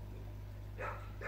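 Two short barks from dogs at a distance, heard at a quiet suburban home against a steady low hum.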